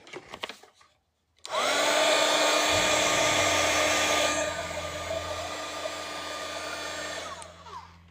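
A hair dryer switches on and blows with a steady, loud whirring roar for several seconds while drying watercolor paint on a Christmas card, then cuts off, with no voices.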